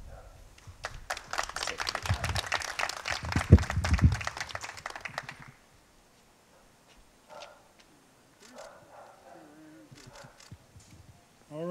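Audience applause at an award ceremony in Aurora, a burst of many hands clapping that lasts about five seconds, moderately loud, then fades to near silence with faint scattered sounds and brief voices.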